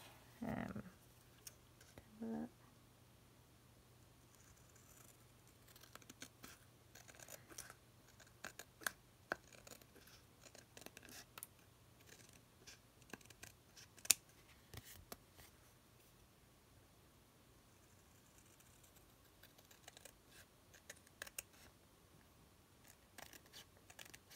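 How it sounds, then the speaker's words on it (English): Scissors trimming excess paper off a handmade stamped card, heard as faint, close, intermittent snips and crisp paper clicks scattered across a quiet room with no talking. "now I'm just going to trim all these excess bit off"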